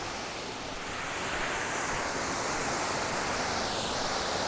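A waterfall flows in moderate volume on a morning shoot, a broad steady roar of rushing water close by that swells slightly and holds constant with no talk.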